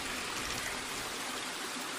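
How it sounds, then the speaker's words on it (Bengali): A mountain waterfall in South Sikkim pours in a dense, steady hiss of rushing water, continuous and fairly close with no voices. "ঝর্ণার আওয়াজ কি তোমরা শুনতে পাচ্ছো?"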